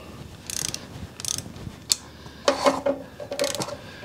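A click-type torque wrench tightens bolts to 180 inch-pounds, 15 foot-pounds, during rear main seal work on a 7.3 Powerstroke, with a series of sharp ratcheting clicks and one distinct crisp click, close and clear.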